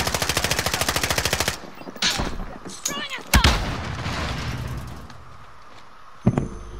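Rapid video-game gunfire rattles off in a fast automatic burst at the start, followed by scattered single shots and a few sharp cracks amid lower background noise.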